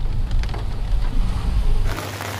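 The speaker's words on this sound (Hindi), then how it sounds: "बहुत तेज़ बारिश हो रही है सुबह से, बारिश रुक नहीं रही है।" Heavy rain falls on a road in Almora, a dense close rushing wash that keeps going throughout, with a low rumble underneath and a brief lift in the upper hiss near the end.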